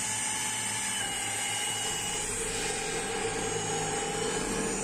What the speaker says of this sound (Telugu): ఇప్పుడు ట్యాంక్కి నిండితే ఓవర్ఫ్లో వాటర్ పైప్ లైన్కి హోల్ వేస్తున్నాం